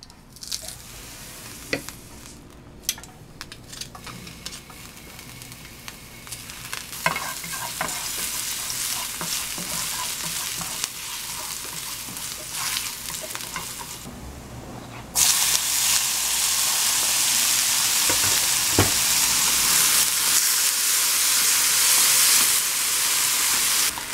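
Olive oil with fine herbs and crushed garlic sizzle in a frying pan, a steady close hiss that grows louder and fuller after the midpoint, with occasional stirring clicks and no talk.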